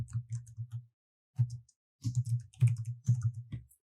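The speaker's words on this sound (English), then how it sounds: "I'm just going to select it and type in my details" Someone types on a computer keyboard in short bursts of quick, close key clicks separated by brief pauses. No one speaks over the typing.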